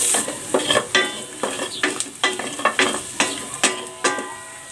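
Garlic sautés in a pan for a garlic chicken soup, with sharp rhythmic scrapes and clinks of a spoon stirring against the pan about once or twice a second over a low sizzle.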